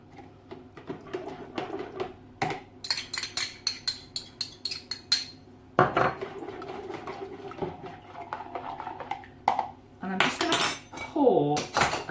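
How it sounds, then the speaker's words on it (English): Saffron and lemon juice being mixed into chicken stock in a pan for Moroccan chicken and rice, heard as repeated clinks and scrapes of a utensil against metal, with a faint liquid slosh near the end. "mix the saffron with the lemon juice. I'm going to mix that in with the stock"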